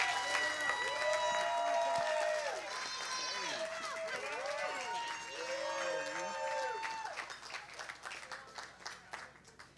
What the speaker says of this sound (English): So let's give a round of applause for Shaka Senghor.